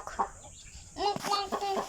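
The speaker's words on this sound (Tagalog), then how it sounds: "Ayan yung manok." A chicken on a farm in Tarlac, Philippines, gives a few short clucks and squawks up close, with brief pauses between calls.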